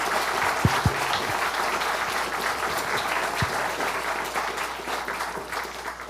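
Sustained audience applause for a speaker at a CreativeMornings New York talk fills the room, steady and dense throughout with a few sharper claps near the start, then tapering slightly at the end.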